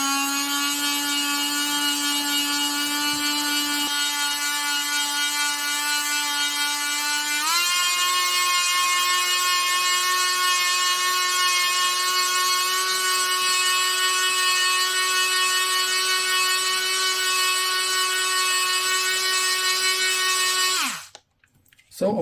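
A Parkside 4V cordless rotary tool whines steadily at speed for about twenty seconds, rising in pitch twice as the speed setting is raised, then cuts off abruptly near the end.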